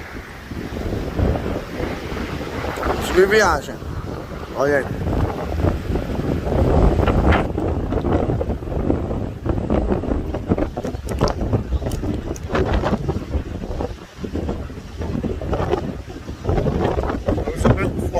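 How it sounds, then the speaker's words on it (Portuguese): Strong wind buffets the microphone on a roadside stop during a motorcycle trip, a constant low rumble and gusting roar that runs throughout, with someone speaking briefly over it. "Voltou a ventar, hein?"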